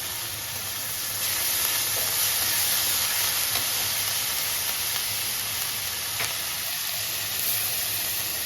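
Ginger and garlic paste sizzles in a hot pan for a Bengali pointed gourd and prawn curry, a steady loud hiss that swells slightly after the first second and holds without talk.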